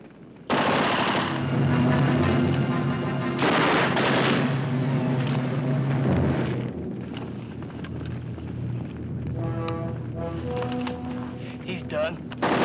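Gunfire rattles through a 1959 war-film battle, loud bursts of machine-gun and rifle fire with wind-like noise, shouting voices mixed in, the firing dense at first and then thinning into scattered shots.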